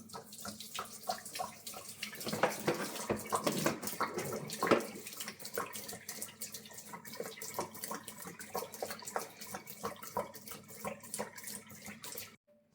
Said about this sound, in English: Drain the water completely out of the steam boiler.